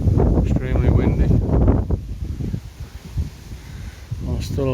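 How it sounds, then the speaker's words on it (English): Strong wind gusting through a garden on a warm day, a loud continuous roar with heavy buffeting on the microphone that eases slightly midway, then surges again. "Nice day, it's warm but extremely windy."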